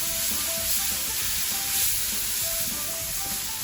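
Ginger garlic paste and masala frying in a pan for a chicken and mushroom kebab curry, a steady close hiss of sizzling oil with no talk.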